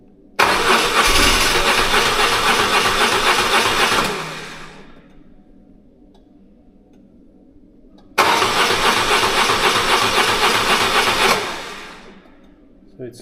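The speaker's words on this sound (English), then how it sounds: "it's turning, but the bike is not starting" A BMW R1100GS motorcycle starter cranks twice in long, loud bursts of about four seconds each, the engine turning over without firing, with a quiet pause between attempts.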